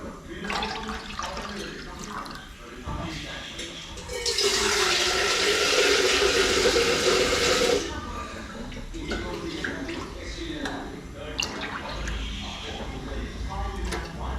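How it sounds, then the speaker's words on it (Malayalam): A few seconds of steady water pouring into a milk vessel, a bright rushing splash, between stretches of talking and kitchen noise. "അപ്പൊ നമ്മൾ കുറച്ച് വെള്ളവും കൂടെ ഒഴിക്കുവാണ്"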